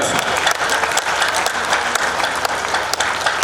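A large crowd claps loudly and steadily at a foundation stone ceremony for Shri Kalki Dham, a dense continuous roar of hands with a few sharper nearby claps.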